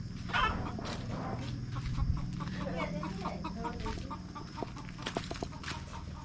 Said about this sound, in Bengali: এই দেখো সব মুরগি রয়েছে এখানে